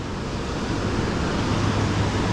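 Steady wind rushes by the water at Little Falls Mill during a fishing trip. The broadband roar is constant and close, like gusts buffeting the microphone, with no talk.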